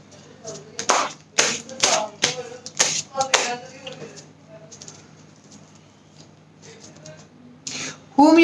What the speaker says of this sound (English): I need to shuffle the card.